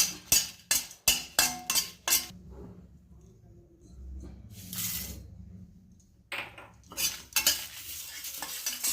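Lentils, cumin and chillies dry-roasting in a pan, with a burst of sharp, close spoon scrapes and clinks against the metal at the start, a quiet stretch, then further stirring scrapes and a faint sizzle, with no talking.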